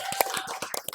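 High school students in a classroom clap their hands, producing a quick, uneven run of sharp nearby claps over about a second, loud and close with no voices.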